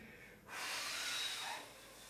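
A single long exhale during a bedtime breathing exercise, a soft breathy rush of air starting about halfway in and fading gently, close to the microphone.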